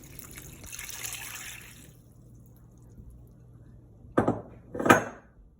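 Water is poured into a metal stockpot for vegetable broth, with a trickling stream at first, then two louder clanking bursts of pot and utensil contact near the end.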